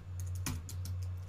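Keystrokes on a small computer keyboard, a steady run of close, crisp clicks with one heavier press near the middle, over a low constant hum.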